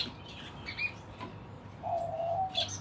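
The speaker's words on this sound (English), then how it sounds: "If you guys ever watched the mating ritual of doves, it's pretty cool. The male makes that noise" A soft, low cooing call, then a brief high chirp, over a steady low hum of background noise.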